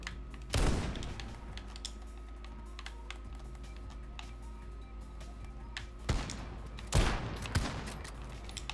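Gunfire in Modern Warfare, heard as two bursts of loud close shots, one early and another pair near the end, over low steady game background.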